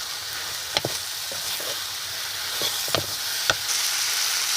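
Steady frying sizzle from a peanut bhajiya mixture in hot oil, a constant bright hiss with a few sharp spoon knocks against the pan.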